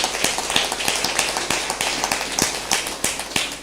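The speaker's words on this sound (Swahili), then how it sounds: "mpigieni makofi." A congregation at a Sunday church service claps steadily for a child, many hands in a brisk, even rhythm that runs the whole time, fairly close and loud.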